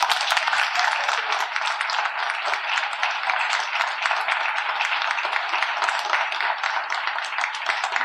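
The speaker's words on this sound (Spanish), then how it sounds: "por favor brindémosle un gran aplauso" An audience in a meeting space applauds a speaker, a steady, even stretch of many hands clapping that holds throughout without speech.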